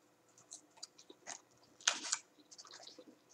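Someone eats fries dipped in Sweet Baby Ray's barbecue sauce, with close, quiet chewing and soft crunching bites, plus one louder burst of crunching midway.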